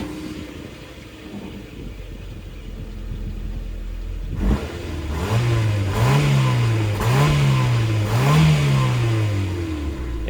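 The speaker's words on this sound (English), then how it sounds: "this is how it sounds like with the original exhaust" Honda Civic engine on its original exhaust, idling low, then revved in three rising-and-falling bursts after a sharp start about halfway through, close and steady.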